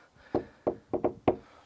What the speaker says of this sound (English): 4 doors knocked.